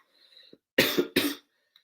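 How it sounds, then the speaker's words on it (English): A baseball broadcast commentator coughs twice in quick succession, loud and close to the microphone, after a faint murmur of background. "I have this little cough going on, which is annoying"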